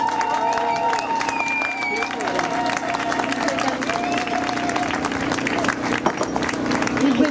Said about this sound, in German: Leute, klatscht richtig heftig.